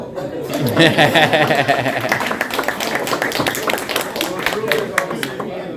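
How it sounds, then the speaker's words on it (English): Audience at a high school sports banquet for the Vanden Vikings breaks into steady clapping, loud and close, with chatter and laughter mixed in throughout. "Everybody's clapping."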